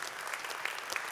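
Audience applause in a main conference hall at a biotech forum, a brief burst of many hands clapping, fairly faint and even, with a few sharper individual claps standing out.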